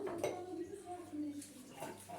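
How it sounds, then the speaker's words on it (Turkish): Dishes are washed by hand in a home kitchen, with quiet clinks of plates, pots and cutlery knocking together near the tap, partly under low indoor noise and brief voices. "Bulaşlarımızı yıkıyoruz arkadaşlar."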